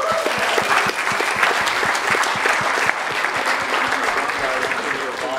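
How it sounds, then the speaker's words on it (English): Ceremony audience at a blockchain hackathon closing event giving a sustained round of applause, dense steady clapping throughout, loud and close with no voices standing out. "let's give them all one final round of applause"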